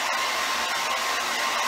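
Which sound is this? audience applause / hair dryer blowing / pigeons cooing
hair dryer blowing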